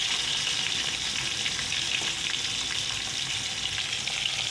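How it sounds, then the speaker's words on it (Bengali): Tomato frying in a pan for a spicy rohu fish curry with lotis, giving a steady, close, even sizzle with faint stirring, no voices. "টমেটোটা একটু লাল লাল করে ভেজে নিই"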